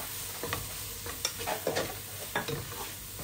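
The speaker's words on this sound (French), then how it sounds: "Je mélange bien." A frying mixture seasoned with paprika being stirred in a pan, with a soft continuous sizzle and several distinct spoon scrapes and taps at close range.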